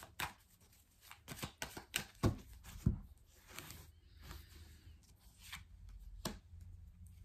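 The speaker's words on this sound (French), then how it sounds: "On va regarder tout de suite avec le tarot persan de Madame Indira" Persian tarot cards being shuffled by hand, a run of quick papery riffles and slaps close up, with irregular pauses between bursts and no talking.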